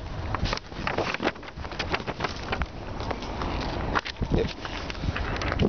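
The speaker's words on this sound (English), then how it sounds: "Dang wind." Gusty wind buffets the microphone outdoors at a former B&O railroad site in Garrett, Indiana, a continuous loud rumbling roar with sharper blasts throughout, no speech heard.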